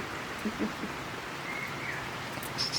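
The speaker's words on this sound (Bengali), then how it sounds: "বৃষ্টি আসছে" Steady rain falling outside during heavy downpour, a continuous even hiss of drops with faint background birds.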